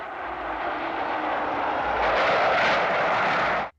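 Model planes roaring past in a Century 21 puppet show, a loud, building jet-engine rush and rumble that swells, then cuts off abruptly at the end.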